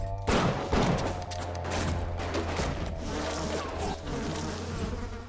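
Swarming insect buzz from a Bioshock bee attack fills the scene, a dense continuous drone with sharp crackling bursts layered over steady low game hum, loud and close throughout.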